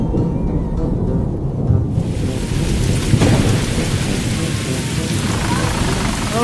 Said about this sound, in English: Suddenly, the sky rumbled with thunder, and the rain quickly came.